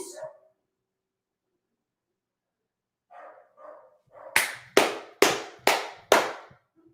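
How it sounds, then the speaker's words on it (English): Dogs bark five times in a quick, loud, evenly spaced burst, after a few softer muffled yelps and a long pause. "The dogs lost their mind, man. They know not to be barking right now."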